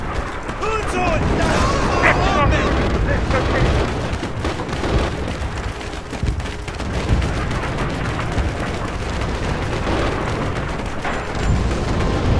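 Heavy artillery fire in the WWII shooter Red Orchestra 2: Heroes of the West, with dense, continuous rumbling booms and blasts and a player talking over the barrage.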